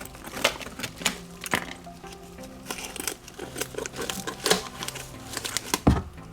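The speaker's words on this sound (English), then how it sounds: "I just like to come and make another little cut along each of the sides, just to help it expand that much more." A plastic jug cut along its sides while setting up a reptile room: close, irregular crinkling snips and sharp plastic crackles, with no speech.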